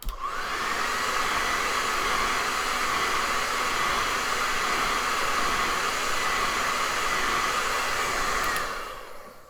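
A hair dryer blows steadily on fresh paint on an eagle painting, a loud continuous whooshing roar lasting about nine seconds before it switches off and winds down.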